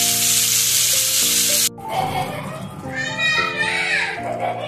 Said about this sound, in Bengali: চিংড়ি মাছগুলো ভাজছি।